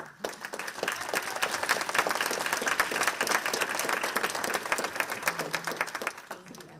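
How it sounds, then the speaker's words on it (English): Steady applause fills a university board of trustees meeting room as a student is recognized, dense clapping from a seated audience that holds evenly for several seconds, with faint talk beneath it near the end. "can you just stand so we can give you a round of applause?"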